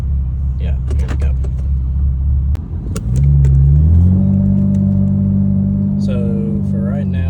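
A 2011 fifth-generation Camaro with a 3.6L V6 and an aftermarket tune idles with a lumpy rumble, then the engine note rises and holds steady as it accelerates, loud and close inside the car, with brief voices near the end.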